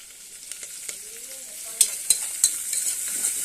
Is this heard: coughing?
no